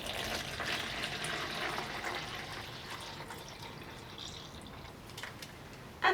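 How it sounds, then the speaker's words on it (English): Water is poured onto tannin powder for a natural dye bath, a soft steady splashing and trickling stream that fades gently, quiet and close with no voices. "And then we pour the water."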